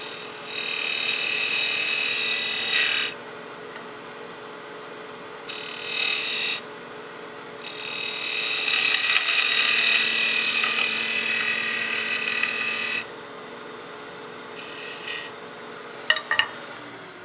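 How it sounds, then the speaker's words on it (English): A lathe spins a wooden snowman oil candle blank as a gouge makes peel and slicing cuts, giving bursts of hissing, scraping cutting noise that start and stop several times over a steady motor hum. "We'll do that peel cut, and then we'll do a slicing cut to give us a clean surface."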